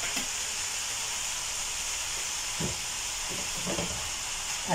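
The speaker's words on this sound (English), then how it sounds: "So again, I add in my rice. You stir just a little bit." Rice stirred in a frying pan for a vegetable rice dish gives a steady close sizzle and hiss, with a few soft scraping stir strokes and no talking.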